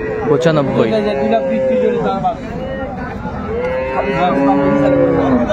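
Dairy cows and calves moo loudly and close at a busy rural cattle market, with long drawn-out lowing calls rising over a constant crowd murmur and nearby talk.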